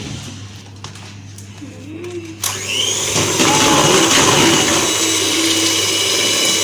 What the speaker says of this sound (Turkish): Şimdi mikserle karıştırıyoruz.